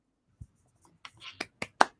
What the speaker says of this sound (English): You get the sad clapping of one person.